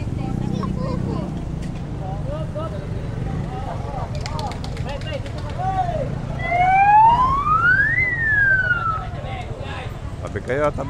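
A police car siren wails and rises in pitch at a busy Carmen Planas street market in Manila, loud and close for a few seconds over crowd chatter and people talking throughout.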